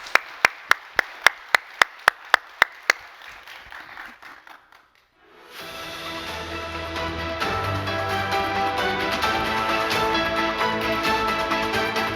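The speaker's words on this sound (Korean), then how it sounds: "다시 한번 뜨거운 박수로 격려합시다." A church congregation at a Korean worship service applauds after a sung hymn: about a dozen crisp, evenly spaced handclaps ring out and fade, then after a brief silence, music swells in.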